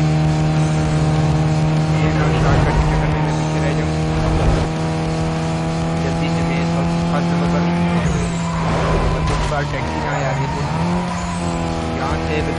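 Cars race in Need for Speed Most Wanted (2005): a constant loud engine drone with tire squeals and skids through turns, with someone talking over the gameplay.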